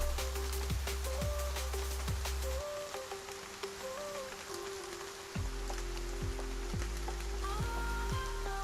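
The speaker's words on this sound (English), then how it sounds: "the rain makes the ground muddy" Steady rain falls in a roguelike RPG video game, a constant soft hiss that runs under repeating musical tones and blips throughout.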